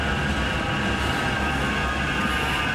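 Loud, steady rumble and rail hum of a tram running through Manchester near Victoria station, a continuous close pass with no voices.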